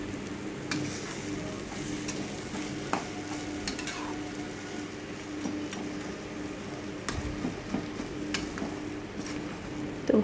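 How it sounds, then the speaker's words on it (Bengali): Leafy greens fry in mustard oil while a metal spatula stirs and mashes them, giving steady low sizzling and repeated scraping, tapping strokes against the pan throughout, close and moderately loud with no voices. "তো ভালো করে শাকটাকে নেড়ে নিচ্ছি"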